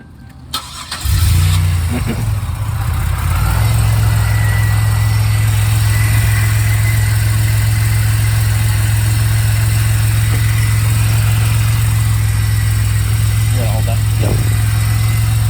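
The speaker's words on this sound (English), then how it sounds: "So let's go ahead and turn on the car." A Pontiac Bonneville SC engine cranks and catches, then settles into a steady, loud, close idle with the air conditioning running, a constant low hum holding without change.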